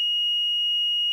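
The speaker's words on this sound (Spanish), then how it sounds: "si el multímetro emite un bip" A multimeter emits a single steady, clean electronic beep that holds for about a second, close and alone.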